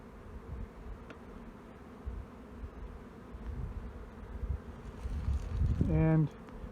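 Honey bees hum and drone around an opened hive in a steady, close swarm buzz, with a louder bee whizzing right past the microphone near the end.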